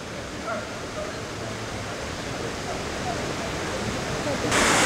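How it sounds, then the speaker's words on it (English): Small waterfall at a sculpture park in Hamilton Township, New Jersey, pouring into a pond: a constant broadband rush of falling water, close and steady, growing slightly louder at the end. "There's a close-up of the waterfall."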